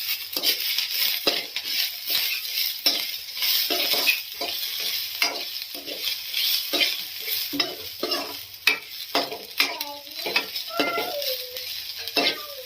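Ginger and coriander leaves fry in a pan with potatoes while a spatula stirs and scrapes them, giving a continuous close sizzle broken by repeated clanks of utensil on metal, with no voices.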